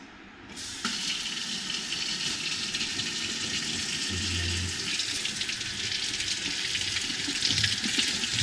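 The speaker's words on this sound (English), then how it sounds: "So you can just rinse them under the sink." High-end water-resistant binoculars are rinsed under a running sink tap, giving a steady, continuous splash of water that starts abruptly and stays even throughout, close and fairly loud with no talking.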